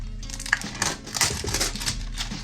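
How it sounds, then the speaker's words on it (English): Plastic wrap is pulled off a block of seed-starting soil, producing close, irregular crinkling and crumpling with sharp crackles and rustles that continue steadily at moderate loudness. "so this is just wrapped in plastic. We're gonna unwrap it."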